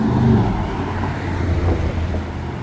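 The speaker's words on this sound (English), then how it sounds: "Oh, here comes the bus now, guys." A city bus on the 211 route approaching on a street near the water, a steady low engine and road rumble with some wind, no voices.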